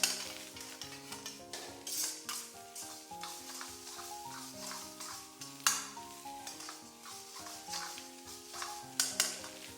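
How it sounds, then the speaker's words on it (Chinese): Diced carrot and cooked rice for egg fried rice are stir-fried in a wok: a rhythmic series of spatula scrapes and tosses over a continuous close sizzle, with a few sharper clatters against the metal. "接下来把胡萝卜丁给倒进来，给它翻炒个10几秒"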